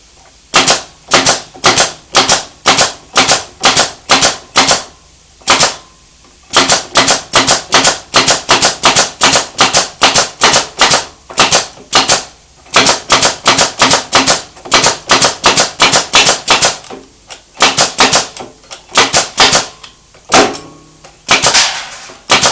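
A pneumatic staple gun driven by an air compressor fires in rapid bursts of sharp, loud clacks with short pauses between runs, close and alone with no talk.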